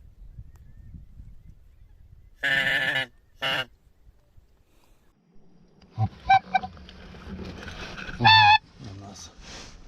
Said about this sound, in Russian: Не, это гуси идут.